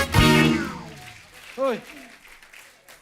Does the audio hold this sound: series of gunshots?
no